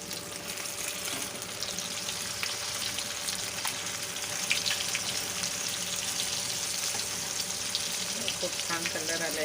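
Corn cutlets, dipped in bread, fry in hot oil over high flame with a constant dense sizzle and scattered pops, holding steady throughout at close range.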